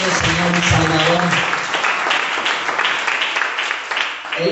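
Church congregation breaking into applause during a sermon, a dense wash of clapping that holds steady for several seconds, mixed with a voice talking.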